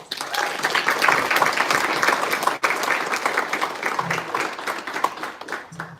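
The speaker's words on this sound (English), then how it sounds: "A round of applause." Steady audience applause fills a volleyball banquet hall, dense overlapping claps at full strength throughout with no break, a brief dip midway, and faint murmur beneath.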